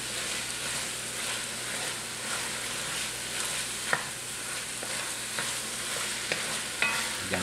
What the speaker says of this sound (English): We're just going to kind of mix it around to get everything mixed in, let that garlic get spread around.